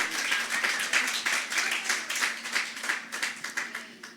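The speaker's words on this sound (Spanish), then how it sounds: "Si va a aplaudir a Cristo, apláudalo con gozo y con alegría, que Él está aquí, amén." Church congregation clapping in praise during a service, a steady run of crisp, fairly close handclaps lasting several seconds with a faint hum underneath.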